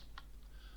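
A few quiet keystrokes on a computer keyboard, two or three isolated clicks with the last one sharper, in a near-silent room.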